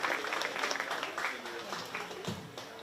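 An audience at a county fair 4-H swine show applauds exhibitors in the crossbred gilt division. The clapping is fairly faint and scattered, with a busy crowd murmur under it.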